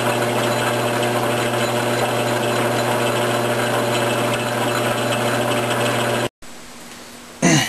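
Metal lathe cutting threads into a workpiece, a steady loud mechanical whine and hum with dense harmonic drone running continuously, then cutting out abruptly near the end before a brief quieter tail.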